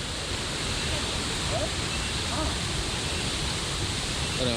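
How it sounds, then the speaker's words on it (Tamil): Steady, broadband rushing of a fast-flowing stream near Vagamon, Kerala fills the whole clip, loud and close with no pauses. "செம ஃப்ளோ வருது தண்ணி"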